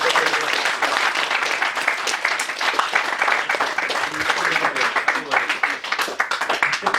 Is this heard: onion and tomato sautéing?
no